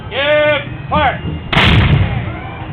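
A musket volley fired at a historical reenactment demonstration, one loud booming blast that follows spoken drill commands, close and dominant.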